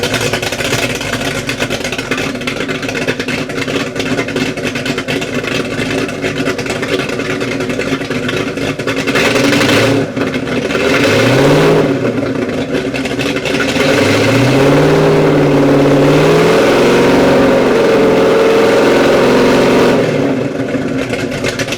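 A race boat's engine roars loud and steady throughout, its revs rising and falling in several swooping throttle blips in the second half.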